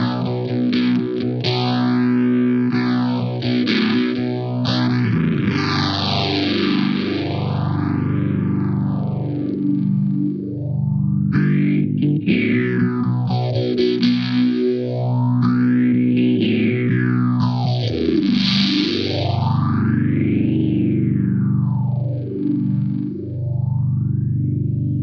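Electric guitar runs through an EHX Small Stone EH4800 V4 phaser on its color setting with Greer Soma overdrive, giving a continuous, loud, gritty tone with deep, slow, repeating sweeps rising and falling throughout.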